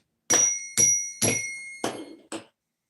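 A new zen bell is struck five times in a row at roughly half-second intervals. Each strike gives a sharp metallic onset and a short ringing tone. The hits are close and loud, with no talking.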